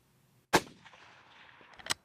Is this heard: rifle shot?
yes